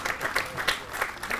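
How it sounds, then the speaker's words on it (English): A crowd applauds a speaker at the Town of Wappinger Memorial Day ceremony, a brief, steady burst of many hands clapping together at moderate volume. "Let's have a round of applause"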